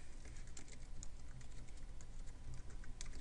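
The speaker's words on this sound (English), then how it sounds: "I'm just typing something right off the top of my head here." Steady rapid typing on a computer keyboard, close and clear, with a continuous run of light key clicks and no talking.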